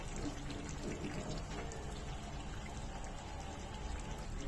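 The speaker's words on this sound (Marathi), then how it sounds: "ते पाणी आपण चिकन मध्ये घालून घेऊया" Water from a mixer jar poured over chicken lapeta in a pan, a steady low splashing pour lasting a few seconds at moderate loudness, with no voice over it.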